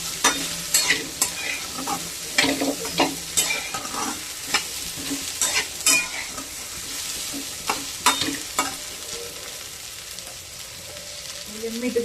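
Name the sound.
okra stir-frying on a griddle pan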